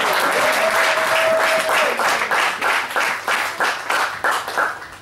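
Church congregation applauding and cheering during a French-language Shabbat sermon, a dense, steady wash of many hands clapping with scattered voices and a brief whistle-like tone, loud and sustained throughout.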